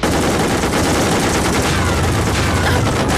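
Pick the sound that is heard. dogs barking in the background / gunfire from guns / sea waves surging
gunfire from guns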